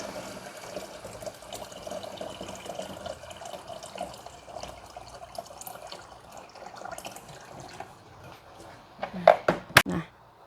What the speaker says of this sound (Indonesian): Aku tambahin air matang ya, ini air matang udah direbus.